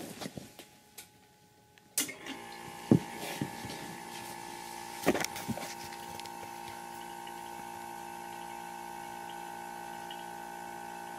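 A Silent Air 20A air compressor, freshly refilled with oil after an oil change, starts up with a few clunks and then settles into a steady, quiet hum that runs on alone.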